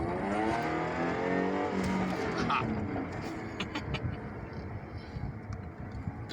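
A supercharged Jaguar F-Type R with 550 horsepower accelerates, heard from inside the car as a loud, rising engine roar that eases to a steady rumble, with road noise underneath.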